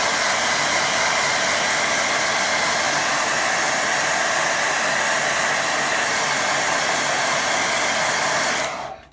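A hair dryer blasts air over a waterfall and lake watercolour painting, a loud, steady rushing whoosh that runs continuously and then cuts off abruptly at the end, with no voices.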